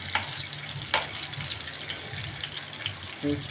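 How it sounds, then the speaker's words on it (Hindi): Stuffed bitter gourds fry in a pan with a steady low sizzle, broken by a few soft clicks and stirring knocks and a brief clatter near the end. "इनको अभी थोड़ा सा हम और फ्राई करेंगे"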